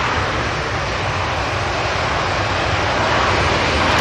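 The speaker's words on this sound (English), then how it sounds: "We've got the Cathay Pacific coming out for Hong Kong, that's an A350 1000." A Cathay Pacific Airbus A350-1000 departs Manchester Airport for Hong Kong, a steady broad jet-engine roar held at an even, fairly loud level throughout with no voices over it.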